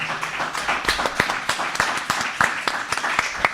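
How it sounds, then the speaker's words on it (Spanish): Audience at a seminar on election disinformation in Brazil and lessons for Uruguay claps for the panelists, scattered individual handclaps at an uneven rhythm, moderately close and fairly sparse rather than a dense roar. "vamos a agradecer, por supuesto, con un fuerte aplauso a nuestras panelistas"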